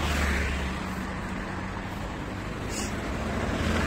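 Cars pass along a street in Yalta, a steady rumbling traffic wash heard from a walking perspective, moderately close and continuous, with no speech.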